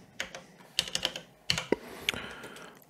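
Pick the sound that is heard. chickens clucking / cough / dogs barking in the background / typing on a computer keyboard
typing on a computer keyboard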